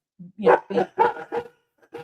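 Several dogs bark close by in a quick run of five or six sharp barks, followed by a short pause and one more faint yip. No talk is heard over the barking.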